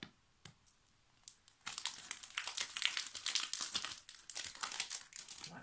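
Transparent plastic sticker packaging crinkles and crackles as it is opened, a few faint rustles at first, then a loud, continuous close-up crumpling of the plastic.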